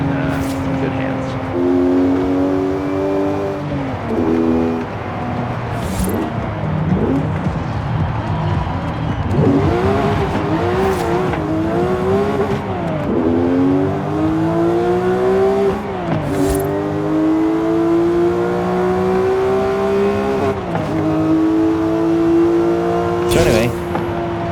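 A Porsche 997 GT3 engine in Forza Horizon 5 revs and shifts through gears repeatedly, pitch climbing and dropping in loud sweeps over nearly half a minute, with a voice talking over it.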